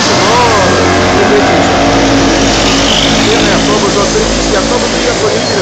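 A bus passes on a busy city street near Pantip Plaza on Petchburi Road, Bangkok, its loud engine rumble continuous among dense traffic noise.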